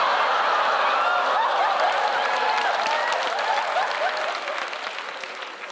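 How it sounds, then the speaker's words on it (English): Comedy club audience applause during a stand-up special, a loud, dense burst of clapping mixed with laughter and whoops that gradually thins out toward the end. "Thank you for the applause."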